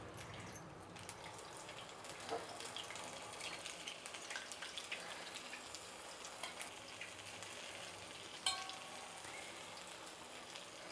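Vadas deep frying in hot oil during a second fry for a Karnataka-style dip vada: a steady, dense crackling sizzle throughout, close and even, with occasional louder pops.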